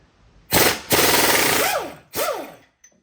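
An impact wrench fitted with a 24 mm socket hammers at an axle nut on an MK6 Volkswagen GTI. Two loud, close rattling bursts come in quick succession, the first long and sustained, the second shorter, each ending with a falling whine.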